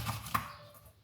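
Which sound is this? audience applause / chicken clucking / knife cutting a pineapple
knife cutting a pineapple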